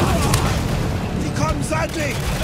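A heavy mounted gun fires in Spec Ops: The Line amid a sandstorm, dense rapid booming under a constant roar of wind and action, with a voice talking over it.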